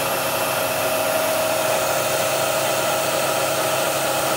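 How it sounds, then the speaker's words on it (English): A CNC face mill runs a 2D adaptive clearing pass, giving a steady, loud, broadband whirring cut with a constant tone throughout and no talk. "We actually done a 2D adaptive clearing with the face mill"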